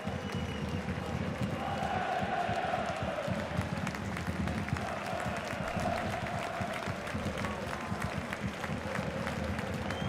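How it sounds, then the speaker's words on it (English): A stadium crowd at a German third-division football match between SSV Ulm and Jahn Regensburg applauds, a distant, sustained rumble of clapping and crowd noise heard faintly with a murmur of voices beneath. "Here the applause there for Hegel as he makes his way round the technical area"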